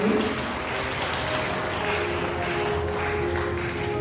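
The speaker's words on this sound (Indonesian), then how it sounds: "Boleh kita beri tepuk yang paling meriah." An audience gives steady, sustained applause during a handover ceremony at a shipping safety outreach event with the Minister of Transportation, filling the room evenly from start to finish.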